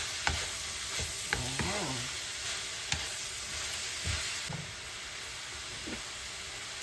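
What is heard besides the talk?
carrots sautéing in a pan for spaghetti sauce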